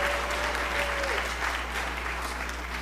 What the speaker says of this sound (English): let's clap tonight